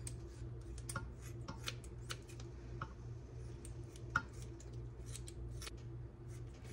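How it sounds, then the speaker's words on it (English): Quiet snipping of scissors cutting hog maws, a series of short irregular clicks and cuts over a low steady hum, with one slightly sharper snip midway. "I chose to do it with scissors."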